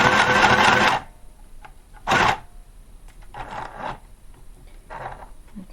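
A mini sewing machine stitches through cardstock paper in a brief loud whirring burst, then a short second burst, followed by quieter intermittent clicks and rustles of the paper being handled.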